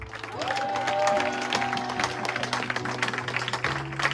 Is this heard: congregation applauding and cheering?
yes